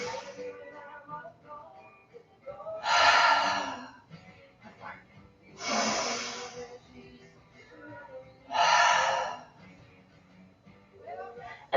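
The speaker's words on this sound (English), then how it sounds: "We're going to inhale deeply through the nose and exhale out the mouth." Three slow, deep breaths during a yoga class, each inhale through the nose and exhale through the mouth forming a clear airy rush several seconds apart, close and soft against a quiet room.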